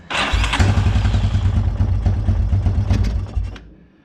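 A Yamaha Wolverine 350 ATV engine cranks and catches with a hand held over the carburetor, then runs loud and steady with a low, rapid pulsing beat before cutting out and fading near the end.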